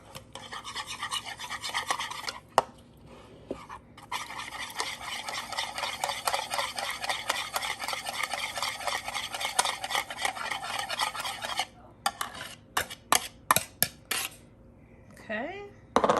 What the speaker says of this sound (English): Whisking them.